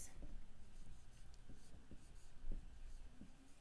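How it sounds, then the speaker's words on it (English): Marker or chalk writing on a board in a classroom gives faint, soft scratchy strokes and light taps against a quiet room hum, with no talking. "Let me write that up here."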